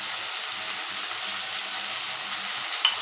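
Chilli soybean frying in a pan with Kashmiri chilli, turmeric, salt and ghee, a continuous even hiss of sizzling that stays steady throughout, with one brief clink near the end and no speech.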